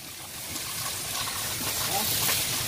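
Water flows from the Pancuran Arjadika spring spout at a campsite near Ciwidey, Bandung, a steady broadband splashing heard close by, with people talking over it.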